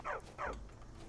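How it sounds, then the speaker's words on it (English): Two short, bright barks from a dog in Skyrim, close by and moderately loud, followed by quiet background ambience. "What are we barking at?"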